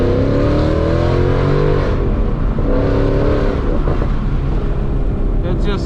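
A supercharged Mustang pulls hard in second gear with a loud, close engine roar and a rising whine of the blower, while someone talks over it.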